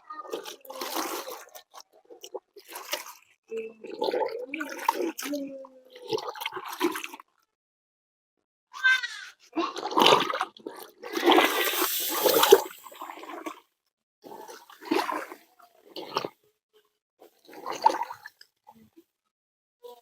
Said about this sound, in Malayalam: വെള്ളത്തിലൊന്ന് നന്നായിട്ട് ഉരച്ച് ഇതിന്റെ പശവശപ്പെല്ലാം ഒന്ന് കഴുകിക്കളയാം